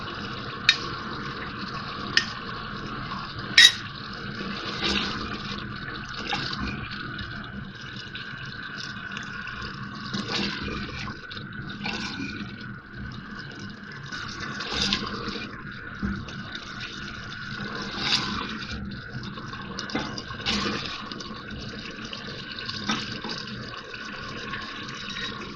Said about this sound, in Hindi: अब मैं थोड़ा थोड़ा दही डाल के इसको भूनूंगी।